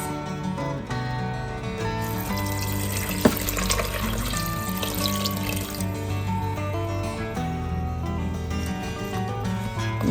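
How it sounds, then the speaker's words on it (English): Tap water pours steadily into a stock pot over vegetables for homemade vegetable stock, a continuous close splashing gush with a small clunk partway through, running alone without speech. "I'm going to be adding about 8 cups of water, just so that it covers all the vegetables"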